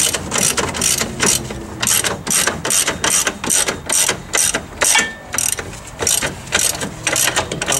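A ratchet tightens a nut on the front spindle of a Foxbody Mustang during a 5-lug conversion, giving repeated bursts of close, crisp clicking in a steady rhythm with short pauses between strokes.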